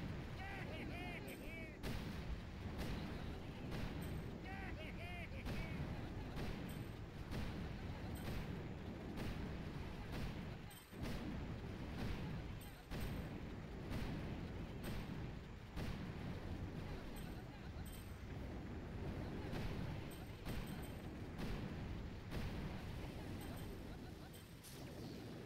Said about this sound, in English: Lasers are shooting at Bullet because he peeked first